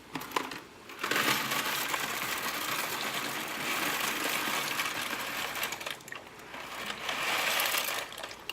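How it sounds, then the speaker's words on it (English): Dry ziti pasta tipped into a pot of boiling water for baked ziti, a dense rattling, hissing pour that starts after a brief pause and runs steadily for several seconds, close and fairly loud with no voices. "add our noodles."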